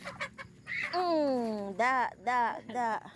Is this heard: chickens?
yes